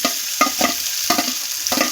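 Fried eggplant tipped into a hot pan for a Bengali red amaranth chorchori, with a steady oily sizzle broken by several close, clattering spoon strokes as it is stirred in with the other vegetables.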